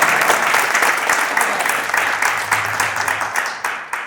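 An audience at a poetry recital bursts into dense, sustained applause, many hands clapping loudly and close together before it begins to thin out at the end.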